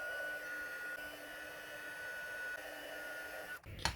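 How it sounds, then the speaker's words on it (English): A heat embossing tool blows hot air over glitter on a card in a steady, faint whooshing drone that carries a thin whine. It holds evenly for nearly four seconds before a brief knock at the end. "I'm just going to use the end of this tool to hold them in place while I heat emboss them"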